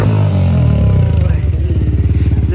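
A Kawasaki Ninja ZX-10R motorcycle is ridden close by, its engine rumbling loudly and pulsing rhythmically as it revs and pulls away, with some clatter.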